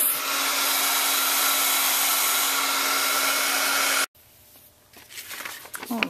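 Heat embossing tool blowing steadily and loud, melting embossing powder onto a stamped gift bag, a constant hair-dryer-like roar that cuts off abruptly, followed by faint rustling and handling sounds.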